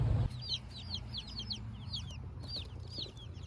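A box holding about fifteen young chicks gives a steady stream of high, repeated peeping chirps, moderately close, with a brief rustle at the start and no talking.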